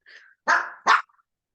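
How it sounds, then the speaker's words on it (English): A dog lets out a short sequence of barks nearby: a softer opening yelp followed by two loud, sharp barks in quick succession. "He's just barking at me because he's mad that I locked him in my room."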